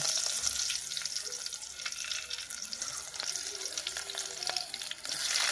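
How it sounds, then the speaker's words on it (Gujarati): Hot oil sizzles and crackles steadily in a pan as mustard seeds and garlic are tempered for dal dhokli, with occasional clinks and faint kitchen clatter, close by and continuous throughout. "હવે બીજો વઘાર કરીશું થોડુંક તેલ નાખીશું"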